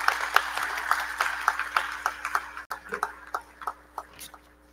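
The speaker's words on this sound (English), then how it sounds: "Let us applaud them once more." An audience at a university graduation ceremony applauds the choir, with scattered claps that thin out into individual sharp hand claps, moderately distant and fairly faint.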